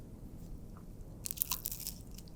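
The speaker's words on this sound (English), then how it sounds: "You need to hear this thinny thing crunch." A close bite into a crunchy thin-crust pizza slice from a New Jersey pizzeria gives a short burst of crisp crackling in a quiet room, fading into soft chewing.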